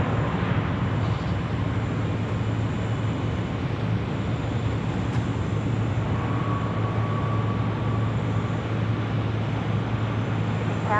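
An aircraft lands on runway 16 right at Sydney Airport, heard as a constant, broad rumbling roar that holds steady throughout with no voices.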